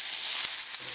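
Catfish pieces crackle in hot oil in a Fry 48 fryer, a brief close, continuous bright hiss with tiny pops and no voices.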